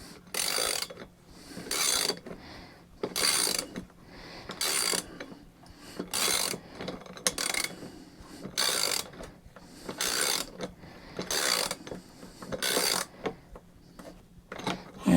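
A ratcheting tool tightening down a part on a handmade 17-inch hunting stick, with about a dozen evenly spaced bursts of clicking, close and clear, with no talk.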